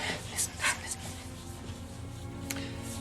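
A dog whimpers and pants softly at close range, with short breathy whines and faint yelps over a low steady background hum, no voice speaking over it.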